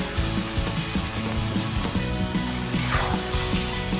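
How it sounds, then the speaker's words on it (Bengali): Potatoes and okra fry in a pan with a continuous close sizzle, mixed with regular scraping and stirring of a spoon against the metal. "এখন আরও 3-4 মিনিট খুব ভালোভাবে এটি সাঁতলে নিচ্ছি, ভেজে নিচ্ছি।"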